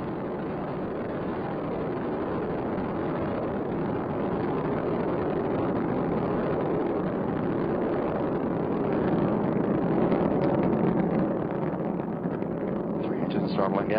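Space Shuttle Endeavour's engines and boosters roaring during launch ascent from Kennedy Space Center, a steady, dense, distant rumble that runs unbroken for the whole stretch.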